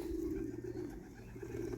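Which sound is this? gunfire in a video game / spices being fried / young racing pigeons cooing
young racing pigeons cooing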